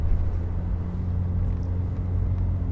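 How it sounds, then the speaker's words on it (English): An Aston Martin DB7 i6 Volante GTS II convertible cruises through the Cotswolds, its straight-six engine giving a low, steady rumble mixed with road noise and no speech. "today we've been driving vintage classics Aston Martin DB7 i6 Volante"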